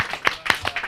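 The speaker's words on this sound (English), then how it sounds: "Clap it up." A live studio audience claps at a hip-hop talk show: a brief, close burst of a few separate claps that rise and fall unevenly over about a second.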